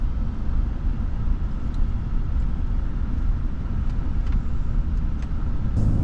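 A vehicle drives along the road during a brake test, giving a steady, loud low rumble of engine and road noise throughout, with faint ticks and rattles over it.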